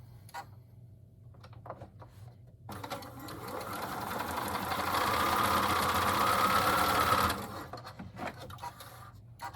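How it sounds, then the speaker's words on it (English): Sewing machine running steadily while stitching a quarter-inch seam on a Valentine quilt block, starting after a few quiet seconds and whirring loudly and continuously for about five seconds before stopping, with faint small clicks around it. "and then we sew those two together, just turn them right sides together, line them up, and do a 1/4 inch seam."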